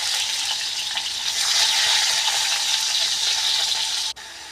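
Tomatoes fry in hot oil in a wok, giving a steady, loud, close sizzle with no gaps that cuts off abruptly near the end.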